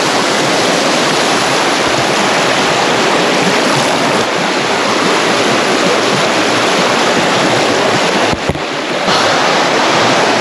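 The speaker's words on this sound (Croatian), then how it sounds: "Moramo se izuti, pregazit potok, nema druge alternative da bi došli do vodopada skakalo." Cold mountain stream in Durmitor near the Škrka waterfall rushes in a loud, steady, broadband roar that fills the whole stretch, close by and unbroken, with no voices.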